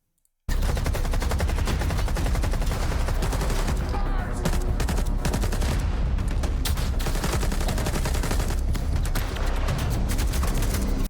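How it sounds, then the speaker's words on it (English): Gunfight with bandits in S.T.A.L.K.E.R. 2, dense automatic gunfire with overlapping bursts and rapid single shots, loud and continuous after a short silence, with a voice heard at times under the shooting. "And here's another gunfight with the bandits."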